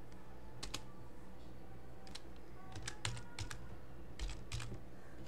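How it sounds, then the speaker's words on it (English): Quiet keystrokes clatter on a computer keyboard as Python code is entered, coming in short irregular bursts of clicks with brief pauses, close and faint. "I'm gonna type that."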